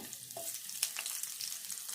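Soft, steady sizzle of onions frying in hot oil with tempering spices for a potato-cabbage curry, with a few faint clinks of stirring.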